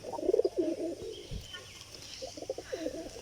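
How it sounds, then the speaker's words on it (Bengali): A male pigeon coos nearby in two short bursts of low, rolling phrases separated by a brief pause, with faint rustling in between. "কবুতরটা নটটা কেমন ডাকছে"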